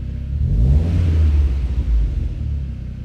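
A turbocharged VW Passat B3 with a 1.8T 20V big-turbo engine making 345 horsepower at 13 PSI rumbles steadily at idle, a deep and fairly loud engine note up close with no talk.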